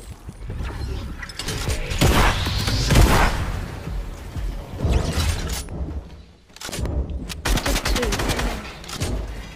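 Clattering gunfire in a Fortnite match, a series of sharp close shots and mechanical rattles in uneven bursts, with a short pause before more shooting.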